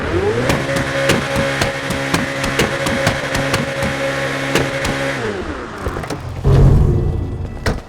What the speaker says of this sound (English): Listen to that engine sound.